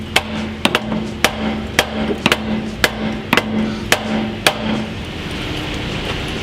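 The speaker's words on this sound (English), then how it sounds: "What, beating things with a hammer?" Sharp metallic hammer strikes on car suspension to knock off a fork, about a dozen close, loud blows at an uneven pace, some in quick pairs, over a steady background hum.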